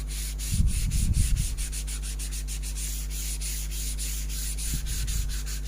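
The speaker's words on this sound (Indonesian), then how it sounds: "Kita tunggu kering dulu dan kita amplas lagi, masih menggunakan amplas" Sandpaper of 400 grit rubs by hand over a duco-finished wooden surface, two short bursts of gentle scratchy strokes, close and fairly soft, with quiet pauses between them.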